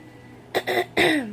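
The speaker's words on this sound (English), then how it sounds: "Sorry, I keep having to clear my throat." Two or three short, raspy throat-clearing bursts, close and fairly loud, following a moment of quiet.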